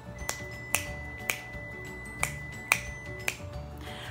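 A run of crisp finger snaps, about eight of them at a loose, uneven pace, close and fairly quiet, over a faint steady background hum.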